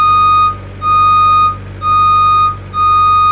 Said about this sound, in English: We're going to show you boom up.